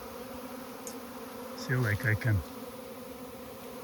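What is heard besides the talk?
swarm of bees buzzing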